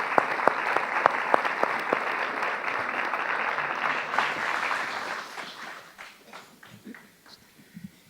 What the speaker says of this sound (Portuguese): ainda não dissemos nada e já recebemos palmas